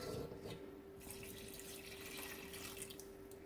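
Water with dissolved bouillon cube pours steadily into a crock pot of BBQ beans with bacon and hot dogs, a continuous close splashing stream with no talk.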